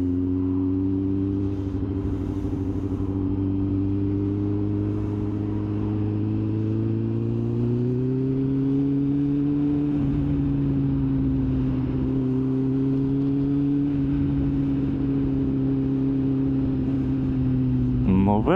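A motorcycle engine droning steadily while riding, a close, continuous rumble whose pitch shifts slightly as speed changes, with wind noise underneath.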